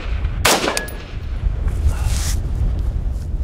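A rifle with an SPR-style upper firing at an outdoor range, one sharp loud crack followed by a second fainter report, set over steady wind noise.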